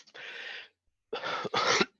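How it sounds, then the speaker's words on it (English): Two quick rough throat clearings, one short burst then a double rasp after a brief pause, close and fairly quiet. "I got to clear my throat"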